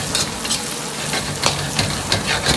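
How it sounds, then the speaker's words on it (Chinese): Twice-cooked pork with garlic sprouts stir-fried in a wok, a loud continuous sizzle broken by repeated scraping strokes of the spatula at a steady rhythm. "快速地翻炒均匀"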